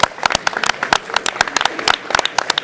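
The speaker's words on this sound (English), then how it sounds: "That's worth a round of applause," A small audience at a boxing star's press conference on taking up professional poker gives a round of applause, with loud, close, sparse claps from a few people at an uneven rhythm.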